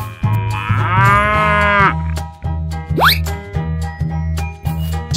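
A cow gives a loud, drawn-out moo up close, followed by a rising squeaky toy-like whistle and a regular thumping rhythmic beat underneath.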